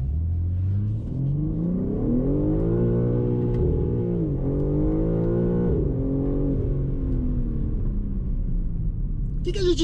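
A BMW M3 launches from a standstill, its engine revving hard and rising in pitch, dropping briefly at two quick gear shifts before climbing again, loud and close inside the car.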